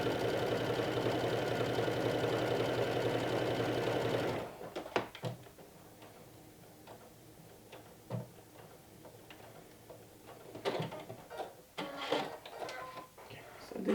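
A home sewing machine runs steadily through a garment seam for about four seconds, then stops, followed by quiet handling of the fabric with a few soft clicks and rustles.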